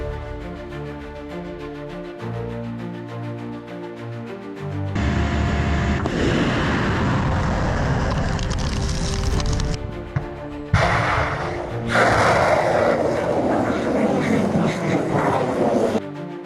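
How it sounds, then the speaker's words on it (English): An Iskander-M ballistic missile launching and striking a Ukrainian UAV base: two long, loud, broad roaring bursts, the second sharper at its onset, rising over a steady tonal drone. "Russia's Iskander-M ballistic missile once again struck a Ukrainian UAV base."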